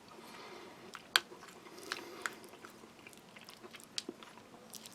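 Close-up chewing of a soft US MRE lentil stew with potatoes flavored with ham: quiet, wet mouth sounds with irregular small bites and crunchy clicks, heard alone with no talking.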